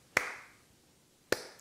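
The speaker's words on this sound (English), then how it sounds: "slow clap" Two slow, deliberate hand claps, about a second apart, ring out sharply against a quiet room with a short echo trailing each one.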